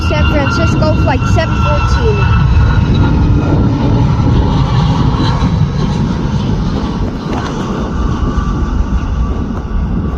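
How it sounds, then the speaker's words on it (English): A United Airlines Boeing 757-33M jet lands, its engines a loud broad roar with whining tones that fades slightly as it rolls past, continuous without talk. "Boeing 757-33M from United Airlines, coming from SFO San Francisco, flight"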